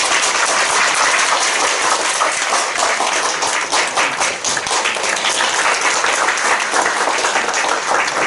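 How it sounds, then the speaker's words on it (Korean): Congregation applauding at a church dedication and ordination thanksgiving service as a performer comes forward, dense steady clapping filling the room throughout at a loud, even level with no voices over it. "나오실 때 박수로 한번."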